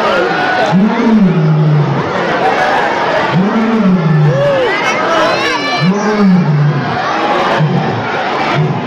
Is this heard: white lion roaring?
yes